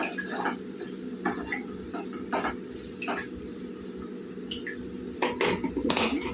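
Green chillies frying in a pan for a cucumber curry, a steady sizzling hiss with light scrapes and clinks of a utensil against the pan, no talking.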